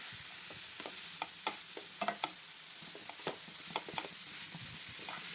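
Carrot halwa frying in ghee in a pan, a steady close sizzle broken by repeated sharp scrapes and clinks of a spoon stirring, with no talk.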